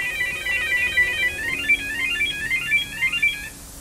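Car alarm sounding from a parked car, a steady warbling electronic siren tone repeating in quick rising and falling sweeps, moderately loud and continuous.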